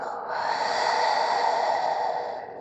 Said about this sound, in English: Exhale, let it all